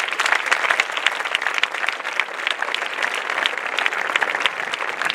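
Strong applause from a large crowd at a 30th-anniversary celebration event, dense sustained clapping at steady volume throughout with no pauses.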